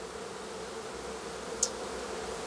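Honey bees swarming into a hive box at an outdoor beekeeping field day, a steady close insect hum filling the background throughout, with one brief sharp click partway through.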